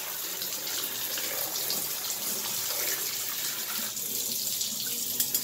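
A small shower head sprays water onto a computer keyboard in a bathtub, a steady close hiss of running water throughout with no talk.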